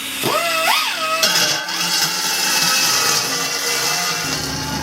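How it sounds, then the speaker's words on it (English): A die grinder whines up to speed and grinds steadily at the edge of a sink cutout in a cargo trailer camper build, loud and close with a shifting high-pitched tone. "I got me a die grinder here, and I'm going to grind the rest of it out until I get to the outside edge"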